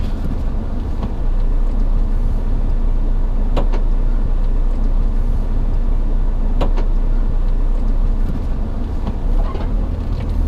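A 4WD vehicle crawls through deep ruts on the CREB Track in Cape York, its engine a loud, steady low rumble with occasional knocks and creaks from the body and suspension, no talk.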